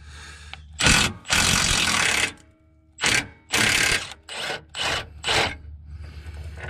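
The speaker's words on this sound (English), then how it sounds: "we're gonna take our 15 millimeter and pull these bolts out and pull this K-member bar out." A 15 mm ratchet on the K-member bar bolts of a Mustang GT 4.6 gives several loud, close bursts of rapid clicking and grinding, separated by short pauses.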